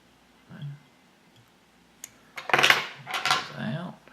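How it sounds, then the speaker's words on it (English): Small scissors trim stray elk hairs from a Sulfur Emerger fishing fly, giving a few quiet, crisp metallic snips in a cluster after a near-silent pause. "So we can just trim those off."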